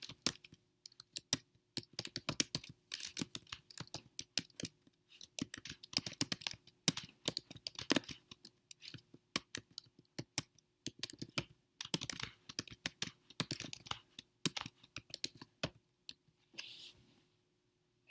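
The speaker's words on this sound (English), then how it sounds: "So I'm going to type that for you." Rapid, irregular keystrokes on a computer keyboard clatter close by for the whole stretch, with brief pauses between bursts of typing and no voice over them.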